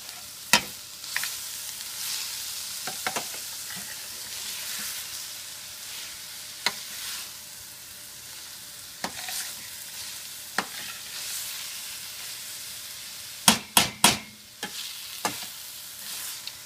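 Spices get stirred through a cauliflower rice filling in a pan, a soft continuous sizzle broken by scattered scrapes and sharp clinks of the utensil against the pan, with a quick cluster of knocks near the end, close up.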